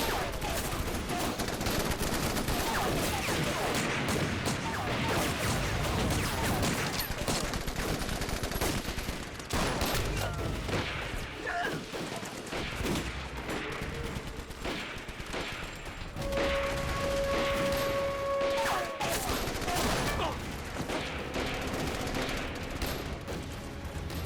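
Sustained volleys of rifle and machine-gun fire in a Vietnamese anti-Japanese war action film, dense rapid bursts at close range that keep rolling for the whole stretch, with brief lulls and a ringing tone midway, no speech.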